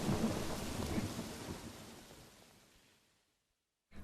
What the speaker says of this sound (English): The storm continued for 20 minutes.